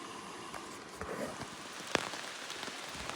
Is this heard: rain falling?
yes